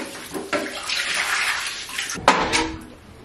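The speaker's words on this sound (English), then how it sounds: "we dump the dehumidifier into this prison shower" Water from a dehumidifier tank poured into a grimy basement shower, a broad splashing rush that swells and runs steadily for a few seconds with a sharp slosh near the end.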